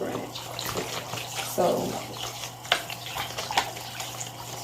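Running tap water splashing into a basin as baby clothes are rinsed with peroxide, a steady close gush with brief sloshes of handling, under a woman's intermittent speech.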